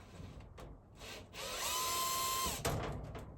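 A power tool loosens the window pane clamps on a Hormann garage door, giving a brief whirring drill-like whine preceded by small clicks and handling knocks, close and fairly quiet.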